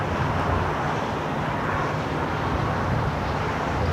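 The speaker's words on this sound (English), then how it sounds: "a 777-300ER taking off there on the north side" A Boeing 777-300ER takes off on the north side at LAX, heard as a dense, continuous roar of jet engines and wind with no voices.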